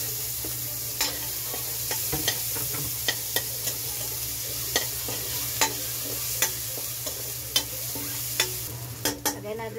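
Garlic sautés in a hot pan for a squid dish: a continuous sizzle with a low hum underneath, punctuated by regular sharp taps and scrapes of a utensil stirring, close and fairly loud.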